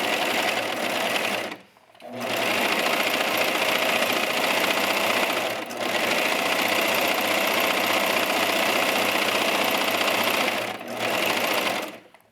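A sewing machine stitches the folded back wrap of a yoga top, running in long steady bursts with two short pauses, close and loud with no talking over it.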